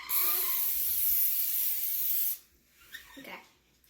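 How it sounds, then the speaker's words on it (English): Non-stick cooking spray hisses steadily from the can onto the bottom of a 9 by 13 inch baking pan for about two seconds, then stops, followed by faint kitchen handling sounds. "I'm going to spray the bottom of it"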